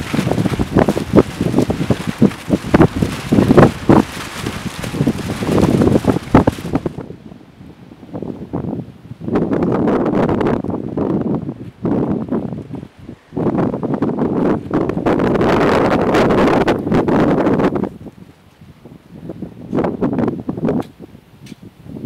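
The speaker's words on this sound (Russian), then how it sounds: "Такой ветер сегодня. Ну надо же. Прямо все сносит." Strong wind buffets the microphone in loud, broadband gusts that rise and fall, dropping out briefly between bursts, with no voices.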